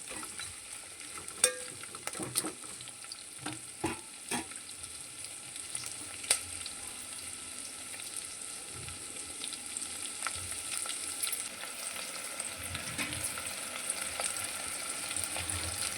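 Green chillies frying in a pan give a faint, continuous crackling sizzle, punctuated early on by a few sharp clicks and scrapes of stirring, with no voices.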